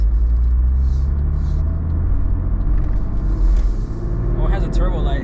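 A JDM car with a turbo pulls away in first gear, a loud low engine rumble close by that swells slightly as it moves off, with someone talking over it.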